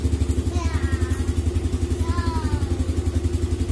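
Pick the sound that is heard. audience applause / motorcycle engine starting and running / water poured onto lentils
motorcycle engine starting and running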